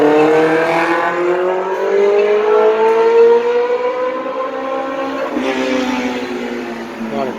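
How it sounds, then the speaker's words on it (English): A loud, continuous sweep of street traffic in uptown Minneapolis: a vehicle engine rising steadily in pitch, then a fresh approach, with a steady close rushing roar throughout. "A lot of traffic going on here today."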